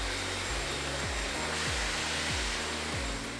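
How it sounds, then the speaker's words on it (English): A hair dryer blows hair dry at close range, giving a loud, continuous roar whose pitch dips and swells at a regular pace as the airflow shifts, with no voices. "And now we just need to blow dry it in."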